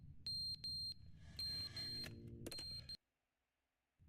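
Fire alarm ringing in The Stanley Parable, a series of sharp, shrill electronic beeps in short repeated bursts that cut off abruptly into near silence.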